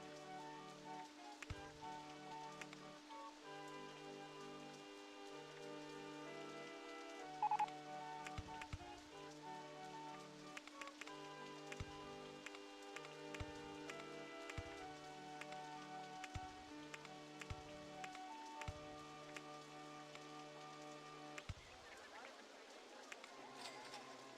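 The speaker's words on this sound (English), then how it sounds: "It's not raining very much." Light rain patters softly in the Xbox game Rollercoaster Tycoon, a faint, continuous drizzle under the game's repeating music loop.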